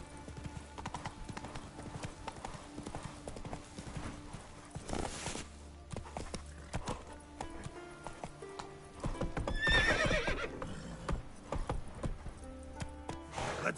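Hoofbeats of Geralt's horse Roach in The Witcher 3 on PS5, a steady run of clip-clops with a whinny partway through and louder trampling near the ten-second mark, under occasional quiet talk.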